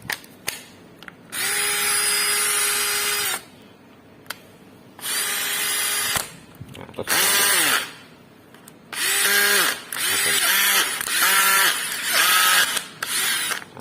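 A repaired Makita DF331 cordless drill motor is tested in repeated bursts: high whirring runs of one to two seconds, some spinning up and down quickly, separated by short silent gaps, loud and close.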